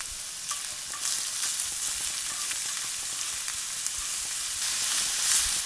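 Garlic, ginger and bay leaves fry in a hot pan for a goat curry and herbed rice meal, giving a steady, close hiss of sizzling oil with a few soft spoon taps and brief crackles throughout.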